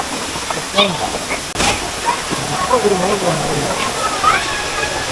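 Jalagamparai waterfall in Thirupathur roars with a steady, broad rushing hiss of falling water close by, while someone speaks over it.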